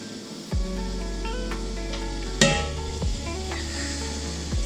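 Steady bubbling and hissing of boiling water in a canning pot, broken by a few sharp metallic clinks and knocks against the pot.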